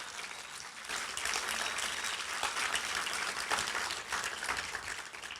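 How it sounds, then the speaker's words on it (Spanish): Sustained congregational applause filling a church, dense and steady clapping from a large crowd throughout with slight swells, no voices on top. "Vamos a darle un fuerte aplauso al Señor"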